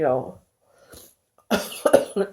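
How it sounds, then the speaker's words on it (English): A person coughs with a few harsh, close bursts, separated by brief silence. "It's my cough telling me"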